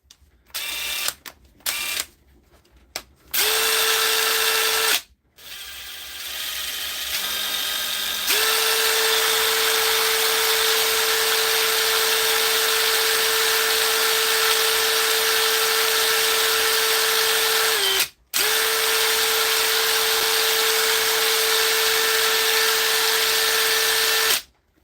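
A repaired impact driver run on test in a workshop, starting with a few short bursts, then a long steady high-pitched whine with one brief stop partway through, close and loud, with no talking.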